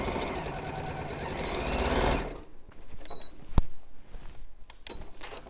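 A sewing machine stitches a seam across a mug bag in a steady, fast whirring run for about two seconds, then stops, leaving quiet handling clicks and a sharp snap.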